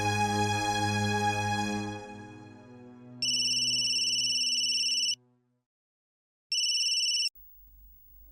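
An outgoing call on a telephone handset: a fading tone, then two bursts of repeated electronic ring tones separated by a pause, with faint background sound and no talking.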